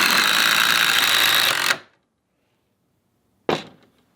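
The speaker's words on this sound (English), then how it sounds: "let's drive a couple more of these things in. Old DeWalt versus new DeWalt." An old DeWalt impact driver drives a screw in a loud, continuous burst for under two seconds. It stops abruptly, and after a pause a second, shorter burst starts and fades.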